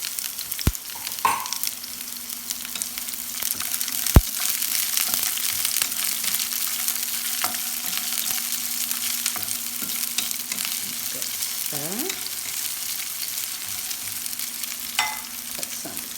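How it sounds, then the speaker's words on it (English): Onions fry alone in a pan with a constant sizzling hiss, broken by a few sharp clicks and occasional scraping stirs of a utensil against the pan. "we're going to just put the onions, nothing else."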